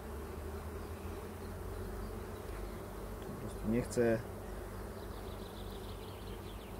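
Honey bees swarm around a hive in a continuous low buzzing hum, while a voice speaks briefly midway over the drone.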